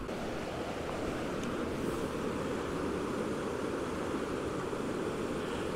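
A small woodland waterfall trickles and splashes in a steady, even rush of water, soft and continuous with no voices.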